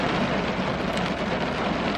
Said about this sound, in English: Can you hear that? That's the rain.